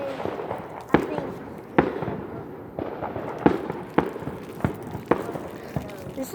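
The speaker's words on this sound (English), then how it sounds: "and of course, fireworks" Fireworks burst in a series of sharp cracks about once a second, going off outdoors at moderate distance, with crackling between blasts and voices talking in the background.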